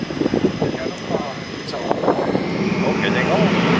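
Navy Blue Angels jets take off in formation at the Chippewa Valley Air Show, their engine roar swelling steadily louder and nearer beneath an announcer's talk.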